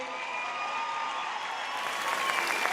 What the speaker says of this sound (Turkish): Ben alkışlıyorum hanımefendiyi.